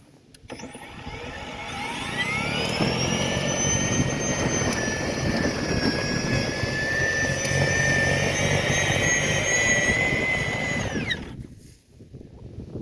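Ego two-stage battery-powered snow blower running through snow with chunks of ice, a loud steady electric motor whine that rises at start-up, holds for about nine seconds, then winds down to quiet.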